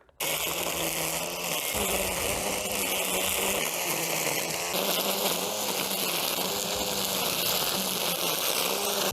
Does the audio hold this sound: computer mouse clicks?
no